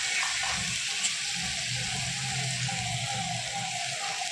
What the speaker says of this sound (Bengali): এবার উপর থেকে দিয়ে দেবে সামান্য ওই বাটি ধোয়া জলটা একটু।